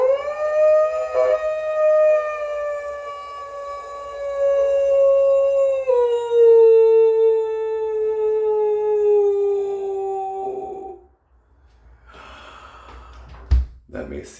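A person imitates a wolf with one long, loud, sustained howl lasting about ten seconds, its pitch sliding gradually downward before breaking off into a breath and a short sharp sound.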